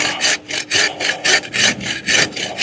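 A hand saw cutting through a large apple tree branch during pruning, with rapid rhythmic back-and-forth rasping strokes, about a dozen in quick succession, close and clear with no talk.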